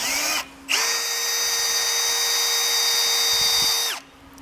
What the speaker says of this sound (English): We're going to drill through our bumper of our vehicle with a 1/2-inch drill bit.